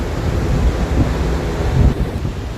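Ocean surf at Royal Palm Beach in Los Angeles makes a loud, continuous low rumbling wash, heavily buffeted by wind hitting the microphone, with no voices.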